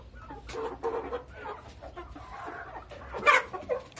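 Chickens and a rooster in a henhouse cluck and chatter close by, with irregular soft clucks and one sharper squawk, while they are fed scraps of toast.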